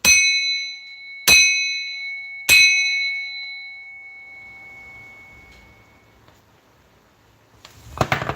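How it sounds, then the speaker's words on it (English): A metal bell is struck three times at an even pace about a second apart, each clear ringing tone decaying slowly, followed by a long fading resonance and then a short rustle. "I'm going to bang this bell."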